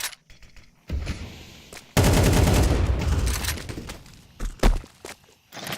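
Gunfire in a Counter-Strike match: a few sharp isolated shots, then a long dense burst of rapid automatic fire, followed by scattered single shots and thuds, all without talk.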